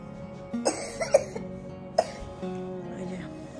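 A sick child coughs several times in sharp, close bursts, a cluster of three or four then another single cough, against a quiet indoor background.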